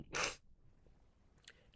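A single human sneeze, sharp and loud, bursting out near the start, followed by quiet room tone and a faint brief breath or sniff shortly after.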